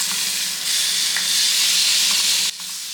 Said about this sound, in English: I have 6 pieces of short ribs, so I'm only searing half of them at a time